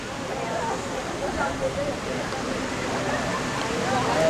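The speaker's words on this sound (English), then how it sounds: "A little waterfall here going down to this pond," Small waterfall at a sculpture park in Hamilton Township, New Jersey, splashing down into a pond: a steady, moderately close rush of water with faint voices in the background.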